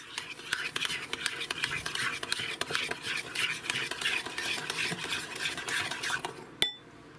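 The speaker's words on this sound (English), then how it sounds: "Now let's go ahead and give this all a real good stir" Broccoli salad dressing seasoned with salt and pepper is stirred briskly in a bowl, a rapid rhythmic scraping and clicking of utensil on dish, ending with a sharp knock.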